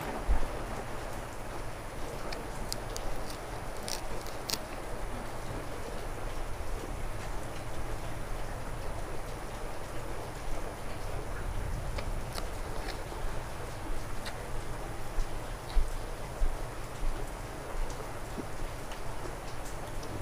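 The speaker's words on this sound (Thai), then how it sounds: "มาอีกแล้วครับฝน" Steady rain falls with a soft hiss and scattered sharp drips ticking on a nearby surface, continuous and moderately quiet, no voices.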